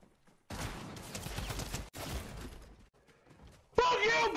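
Gunfire from a weapon in the video game Fortnite: loud, dense bursts of shots in two long stretches with a brief break, then a sharper, brighter burst at the end.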